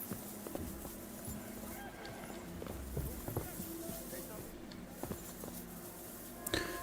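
Horses at a stable in the medieval video game Kingdom Come Deliverance 2, with faint hoof clip-clops and shuffling steps, plus distant fowl, under low ambient game sound.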